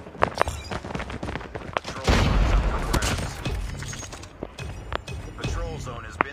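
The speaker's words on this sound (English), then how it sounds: "Grenade out!" Grenade explosion in COD Mobile, a heavy booming blast with rumbling tail amid scattered gunfire pops, with voice chatter and game announcements over the action.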